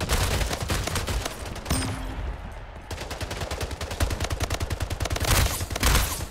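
Rapid automatic gunfire from the Splitgate shooter video game, dense bursts of shots rattling almost continuously with a brief lull in the middle, loud and close.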